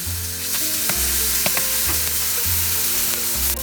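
Cumin seeds, chopped green chili and grated ginger frying in cooking oil, a continuous close sizzle with light stirring scrapes and occasional crackles and taps throughout.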